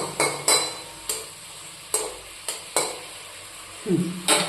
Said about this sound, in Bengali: আগে এগুলো হালকা লাল লাল করে ভেজে নিতে হবে